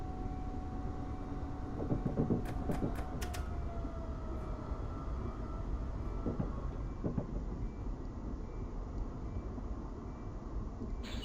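Pacific Surfliner passenger train in Train Simulator 2017 rolling along steadily, a continuous rumbling drone with wheel and track noise, with brief sharp horn-like tones around two to three seconds in.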